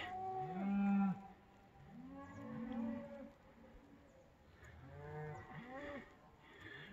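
Several cows moo loudly in long, drawn-out bellows, a few calls overlapping, with short pauses between them and no talking.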